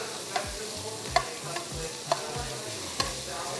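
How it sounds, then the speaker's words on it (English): Shrimp sautéing with garlic and chili flakes in a hot pan give off a steady sizzle, broken by several sharp clinks and scrapes as they are flipped and turned. "we're gonna start to flip them around and get that garlic coated all around them"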